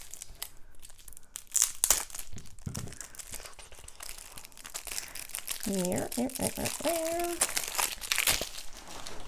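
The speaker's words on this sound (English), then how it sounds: "So let's open up these cards." Crinkling plastic wrap rustles and tears as a pack of board game cards is opened up close, crackling in irregular bursts while a person talks over it.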